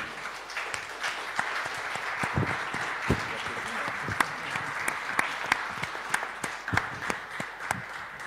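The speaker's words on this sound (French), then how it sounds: "je pense qu'on peut applaudir nos 4 invités." A roundtable audience on poetry applauds its four guests with steady, dense clapping that carries through the clip, with a few sharper claps standing out and voices murmuring underneath.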